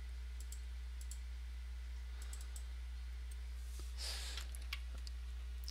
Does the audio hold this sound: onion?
no